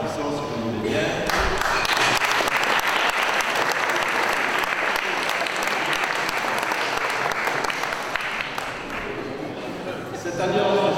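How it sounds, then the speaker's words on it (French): An indoor audience at a Liège Basket season presentation in a car garage gives sustained, loud applause, with dense clapping carrying on for several seconds before it fades as a voice returns. "En l'applaudissant, si vous voulez bien."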